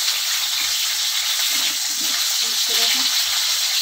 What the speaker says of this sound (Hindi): तीन से चार मिनट तक मीडियम फ्लेम में अच्छे से फ्राई कर लेंगे। बिना ढके हुए फ्राई करेंगे